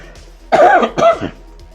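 Two short, raspy coughs in quick succession, close to the microphone, with quiet room tone between.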